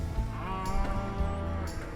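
A calf bawling at a farm pen near cows: a sustained, strained, harmonic cry that carries steadily through the short stretch, fairly close.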